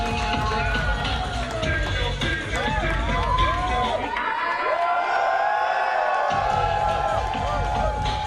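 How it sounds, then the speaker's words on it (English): A lively wrestling crowd at a Phoenix Wrestling show in Cork cheers, shouts and whistles loudly and continuously, with voices calling out over the roar. "soaking in the reaction from this lively crowd here in Cork"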